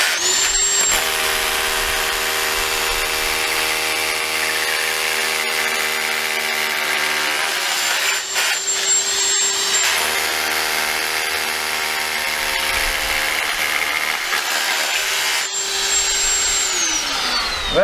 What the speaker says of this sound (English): we then take our SDS or percussion drill